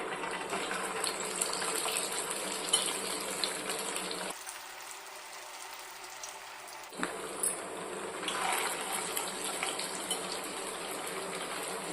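Bottle gourd vada batter sizzles in hot oil, a steady bright frying hiss that drops out briefly midway and then resumes at a low level.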